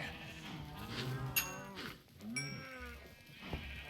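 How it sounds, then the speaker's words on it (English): Several Minecraft cows moo in a survival-mode cattle pen, overlapping low drawn-out calls repeating close by with small clicking game sounds between them. "Come on, cows."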